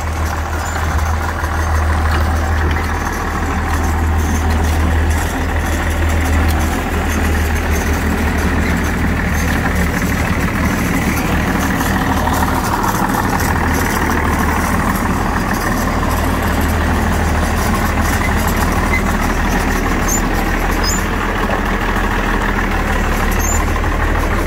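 A farm vehicle's engine idles and rumbles steadily and loudly nearby, a continuous heavy low drone while backing a blower up to a barn.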